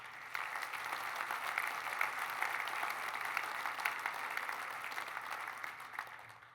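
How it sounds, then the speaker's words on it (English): Audience applause fills a banquet hall, a steady wash of many hands clapping at moderate volume for several seconds without talk. "give a round of applause for everyone that's here"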